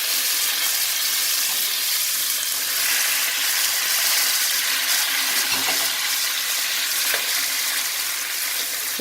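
Onion masala with tomatoes frying in a pan, a loud, dense, continuous sizzle heard close up, with occasional faint stirring knocks and no talking.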